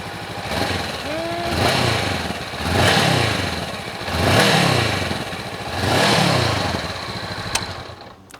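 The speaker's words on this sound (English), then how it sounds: "Moving on to the CB." A 2021 Honda CB500X 500cc parallel-twin motorcycle engine revs repeatedly, four or five rising and falling swells close by, dropping back to a steady idle between each blip, with no talking.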